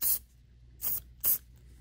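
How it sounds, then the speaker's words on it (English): Real Magic line conditioner is sprayed onto a fishing reel spool in three short, sharp aerosol bursts, close and hissy with brief quiet gaps between them. "spray it on there."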